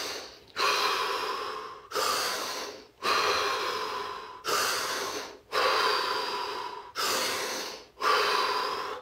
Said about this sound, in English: So take 5 deep, deep breaths, followed by 30 seconds of absolute stillness and silence.